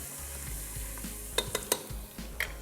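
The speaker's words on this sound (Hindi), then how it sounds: "इसको सही से पहले आपने भूनना है, अच्छे से खुशबू आ जाए।" Whole green cardamom, cloves and cinnamon dry-roasting in a pan for qeema matar, a soft continuous sizzle with a few sharp little clicks and taps of spices and a spoon, close and brief, without talk.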